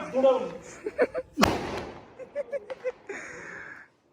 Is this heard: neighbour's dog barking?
no